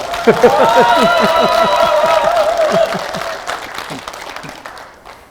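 Audience applause at a member of parliament's constituency report meeting in Yeongju, South Korea: a crowd claps steadily and loudly, with a voice over it, before the clapping thins out and fades.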